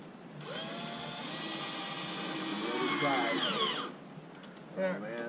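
A power drill drives a lag screw into a fascia board to anchor an antenna mount, a close, loud whining buzz that holds steady for about three seconds, then winds down, followed by a short burst of voice.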